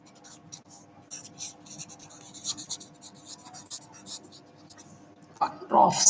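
Chalk or marker scratches across a board during a chemistry lesson, in a series of short, close strokes with brief pauses, and a voice speaking briefly near the end.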